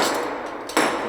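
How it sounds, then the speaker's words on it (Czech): A single sharp metal strike lands near the end while a worn bearing is hammered out of a Kawasaki Z750 motorcycle, preceded by a faint ringing tail from the previous hit. "takže už by to mohlo jít vybouchat"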